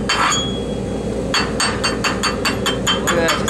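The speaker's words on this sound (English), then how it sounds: "Chip the weld and see if we did any good." A hammer chips slag off a dual shield wire weld with a quick series of sharp metallic taps, close and evenly paced after a brief first strike.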